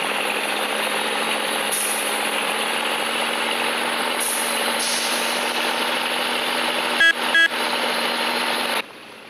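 A very large truck engine runs steadily and loudly, a dense continuous rumble that holds throughout, with a couple of brief sharp clicks near the end before it drops away.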